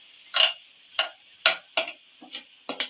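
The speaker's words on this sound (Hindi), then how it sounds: "हल्का सा फ्राई करना, ज़्यादा नहीं बनाना" Vegetables seasoned with black pepper fry lightly in a pan beside chicken, with a faint background sizzle broken by about eight short, crisp scraping stirs at irregular intervals.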